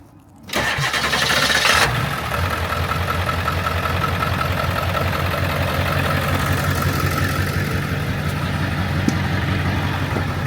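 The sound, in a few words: truck engine starting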